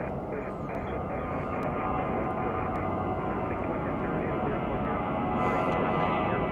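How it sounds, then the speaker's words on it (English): American Airlines Airbus A319 bound for Pittsburgh at Chicago O'Hare, a steady loud jet engine roar with broad rumble holding for several seconds, swelling slightly near the end, with airport background under it. "American Airlines Flight 1173 headed to Pittsburgh. It's an Airbus A319."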